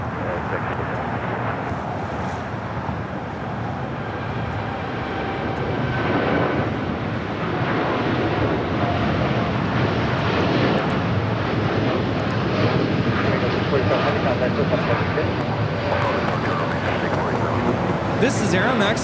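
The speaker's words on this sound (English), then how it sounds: "This is Aeromexico 647 taking off to Mexico City on a 787-8 Dreamliner" An Aeromexico Boeing 787-8 Dreamliner taking off from LAX, its engines a loud, broad, sustained roar that swells slightly and holds steady, heard from a distance.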